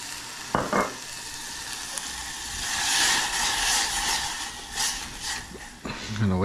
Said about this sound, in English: gonna add our rice wine vinegar